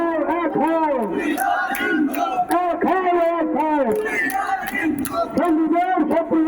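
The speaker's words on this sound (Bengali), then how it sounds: "চট্টগ্রামে হিন্দুদের প্রতিবাদ মিছিল, সেই মিছিল থেকে উঠল লড়াইয়ের স্লোগান।" A large Hindu protest march in Chittagong, Bangladesh, chanting slogans in unison: loud, dense massed voices rising and falling in a steady rhythmic pattern of repeated shouts, close and continuous throughout.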